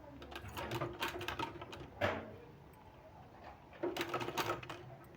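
A sewing machine stitches a sleeve in short bursts of rapid mechanical clatter, separated by pauses where the fabric is repositioned, fairly close and moderately quiet.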